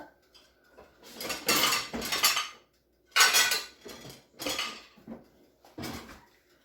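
A plate is picked up and handled in a kitchen, with several bursts of clattering crockery and clinking cutlery separated by short quiet gaps, close by.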